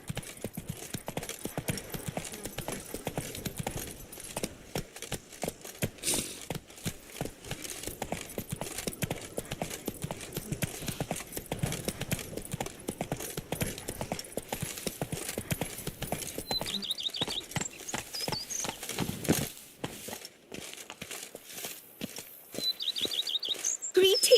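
Roach, a horse in The Witcher video game, gallops in steady hoofbeats running through most of the stretch, with faint bird chirps and brief whinny-like sounds in the game background.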